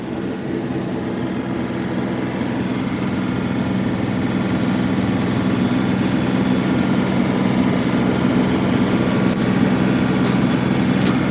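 A John Deere 3032e compact tractor runs with a Countyline 5-foot bush hog, a loud, steady engine drone with the mower's low hum that holds even throughout, no talking.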